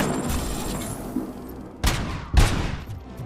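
Two sharp, heavy sniper rifle shots ring out about half a second apart over a low rumbling battle backdrop in the first-person shooter RoboCop: Rogue City, with no voices.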